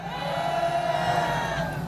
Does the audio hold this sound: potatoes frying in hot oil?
no